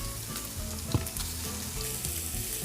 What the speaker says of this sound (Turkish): Etlerimi kızartıyorum.